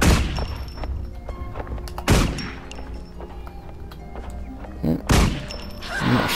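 Pistol shots in Guild Wars 2 during the Asura starting area, a few sharp gunshots spaced seconds apart over a busy backdrop of game effects and low ambience.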